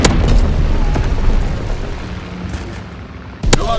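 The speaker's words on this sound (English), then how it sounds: "Sending mortar rounds." Mortar rounds exploding in the Call of Duty WWII video game, with loud, rumbling booms sustained throughout and a sharp blast near the end.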